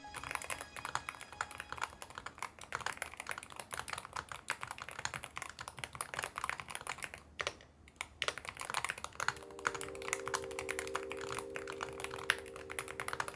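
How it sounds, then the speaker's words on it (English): Rapid, continuous typing clatters on a mechanical Hall effect keyboard, crisp keystrokes rattling in a steady flurry, close and clear, with a faint hum entering near the end. "for a Hall effect keyboard, it sounds pretty good. Have a listen."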